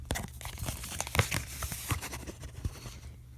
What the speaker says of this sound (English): So this is my giving cash envelope